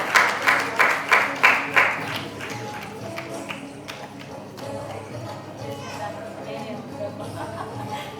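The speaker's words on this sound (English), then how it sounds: "big round of applause for Sita Mahalakshmi garu" Audience at a Mother's Day celebration for a milk bank gives a short round of rhythmic clapping, about a dozen even claps that fade into a room murmur and light chatter.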